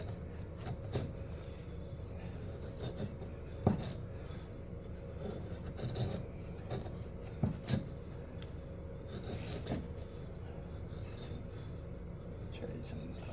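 A Cold Steel Drop Forged Survivalist knife shaves feather sticks from gnarly wood, giving quiet repeated rasping scrapes and occasional sharper catches close by, at an uneven working rhythm with a low background hum.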